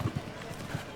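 Horse hooves clip-clop in a quick rhythm of a few low thuds over a one-second stretch during a show jumping round at Spruce Meadows, beneath a steady crowd and arena murmur.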